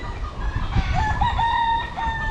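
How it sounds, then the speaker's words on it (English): Chickens cluck steadily near the microphone while a rooster crows in drawn-out calls through the middle, all over a continuous farmyard background with no talking. "feeding the chickens."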